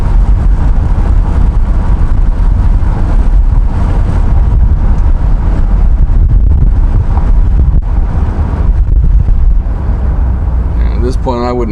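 A 1973 Chevrolet Corvette Stingray coupe drives on a road test, its loud steady engine rumble mixed with road and wind noise as someone talks over it.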